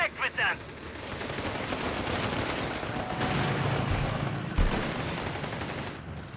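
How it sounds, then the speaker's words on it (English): Grease guns fire in a Company of Heroes 3 battle, with sustained rattling bursts and scattered gunshots over a dense battlefield din while a voice commentates. "taking a fair bit of damage from the grease guns already"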